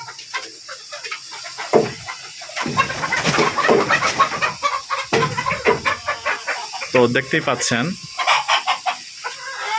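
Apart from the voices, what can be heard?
Fayoumi chickens clucking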